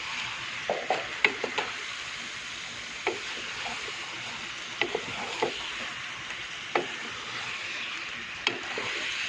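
Pieces of mutton frying in a karahi with spice, stirred by hand, giving a steady soft sizzle broken by short scraping clacks of the spoon against the pan every second or so.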